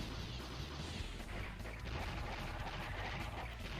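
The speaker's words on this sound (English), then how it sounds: "Fire Chicken just bursts into an explosion of flames." A boss in the Blaster Master game erupts into flames with a dense, crackling stream of explosive booms and blasts, loud and continuous throughout.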